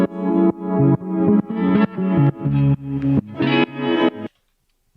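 A prepared synth sample runs through effects with an LFO modulating it, giving a distorted, chorused tone in a pulsing series of swelling notes that stops abruptly near the end, loud and alone.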